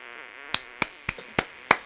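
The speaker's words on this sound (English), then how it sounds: "Now I'm just gonna fart on you for the entire video." In South Park: The Stick of Truth, five short, punchy fart sounds pop out in quick, uneven succession, loud and close over a faint game hum.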